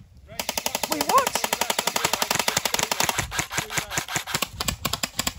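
Rapid airsoft gunfire crackles nonstop in a quarry skirmish, a dense run of sharp clicking shots, several guns firing at once, loud and close with a brief shout early on.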